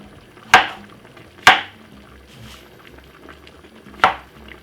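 Spring onion drops into a pot of simmering Jamaican stew chicken, giving three sharp, close clinks and splats over a low, steady bubbling background.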